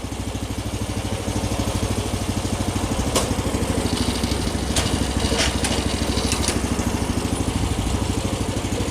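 A Forte hybrid walk-behind tractor with an 18 hp Weima 192FE-S petrol engine runs steadily close by, a loud, even chugging idle with a few sharp metallic clicks partway through.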